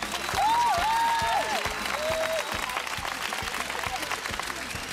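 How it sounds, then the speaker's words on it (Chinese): A studio audience applauds to welcome an aerobic dance club at a campus TV show. The clapping is steady and fairly close, and a short rising electronic tone sounds early on. "让我们掌声欢迎我们的学舞蹈"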